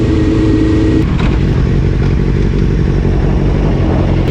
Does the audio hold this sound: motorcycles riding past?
yes